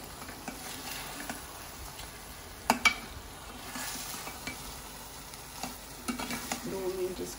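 Paneer cubes sizzle in a hot pan while a spatula slowly turns them, soft steady frying hiss with a few scraping stirs and light knocks close by.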